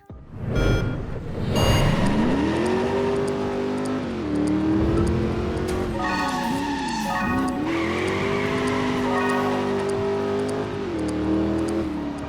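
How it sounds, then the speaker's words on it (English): A DMC DeLorean races in a video game, its engine droning and rising and falling in pitch as it revs, with brief tire squeals and electronic beeps over roughly twelve seconds, loud and close. "If you hit 88 miles per hour when driving the DMC DeLorean"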